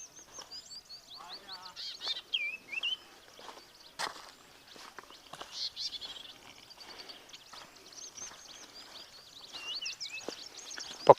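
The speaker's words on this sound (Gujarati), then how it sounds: "પક્ષીઓનો અવાજ આવી રહ્યો છે." Birds chirp and call repeatedly in a Kutch forest, a mix of short tweets and trills at moderate distance, alongside soft footsteps and occasional rustling.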